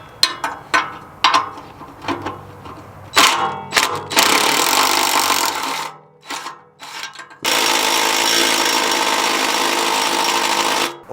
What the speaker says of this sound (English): We're gonna go ahead and take both bolts completely out.